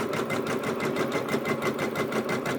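A multi-needle embroidery machine, Janome or Brother type, starts stitching with a steady, fast, even needle rhythm that runs loud and continuous throughout, with no talk over it.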